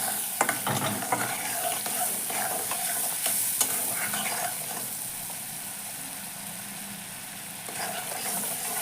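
Spice paste with slit green chillies being stir-fried for a hilsa-head lentil dish, a close continuous sizzle with scraping stirs that cluster early and fade into a steady fry, no voices.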